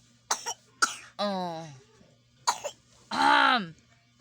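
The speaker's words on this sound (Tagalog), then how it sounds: "May ubo na naman yung baby namin mga kaibigan" A baby with a cough and cold coughs in short bursts, with strained, whimpering cries between the coughs, close by in a quiet room.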